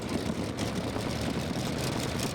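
A Gator pulling tractor with two methanol-fuelled motors runs at a pulling competition, giving a steady, rough, low mechanical drone at moderate distance that is not revving freely.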